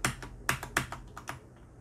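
A replacement keycap is pressed onto a Corsair K70 mechanical RGB keyboard, producing a quick run of close, sharp plastic clicks and taps, some louder than others, then fading to quiet.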